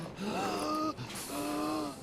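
A man in The Order: 1886 breathes in laboured, asthmatic gasps, two long drawn wheezing breaths close and clear, with a brief pause between them.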